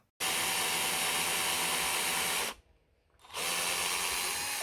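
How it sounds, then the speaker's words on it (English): Power drill guided by a pocket-hole jig bores angled holes into wood, a loud steady whine that runs for two seconds, cuts out briefly, then starts again, with no talk. "it's a tool that guides your drill to make some angled holes in the wood"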